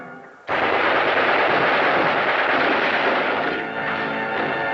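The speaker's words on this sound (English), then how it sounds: "Fire a second volley!" A volley of gunfire in an attack on a power plant in Return of Dr. Mabuse, a loud continuous rattle of rapid shots starting abruptly and sustained for several seconds, easing slightly near the end.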